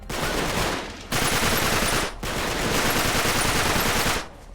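Dense gunfire in the video game Uncharted 3 in a French castle setting: loud, continuous rattling automatic bursts broken by two brief gaps, with no speech over it.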